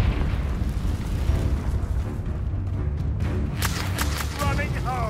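A Confringo fire spell bursts in the Hogwarts Legacy video game, a loud rumbling explosion with crackling fiery debris that fills the mix, followed by bright ringing magical effects near the end.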